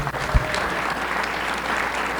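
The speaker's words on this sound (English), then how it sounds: "Let's clap it up for Samantha." A crowd applauds a Hall of Fame inductee at a sports ceremony, a steady wash of clapping at moderate volume throughout, with one sharp low thump near the start.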